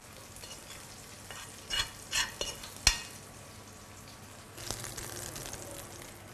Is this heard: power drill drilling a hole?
no